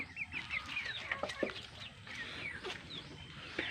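US Dark Mahogany gamefowl on a farm cluck and chatter in short rising calls, several birds overlapping at moderate distance over a low outdoor background.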